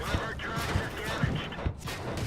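Tank cannon fire in the World of Tanks video game, with several heavy booming shots and rumbling impacts in an irregular rhythm over a dense battle din.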